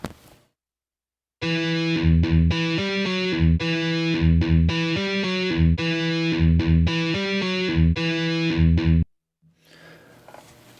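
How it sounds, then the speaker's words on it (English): A heavily distorted metal guitar riff plays alone, tight chugging palm-muted chords and short repeated figures starting after a brief silence and stopping abruptly, loud and up close with no talk. "you can see that's all matching up now with the recorded riff"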